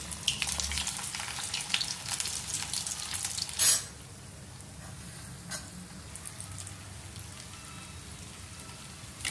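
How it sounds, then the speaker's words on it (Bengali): Sabudana vada dropped one by one into hot oil in a kadai, giving a close bubbling sizzle with faint crackles and a short louder burst partway through. "এবার আমি এগুলো ভেজে নেব।"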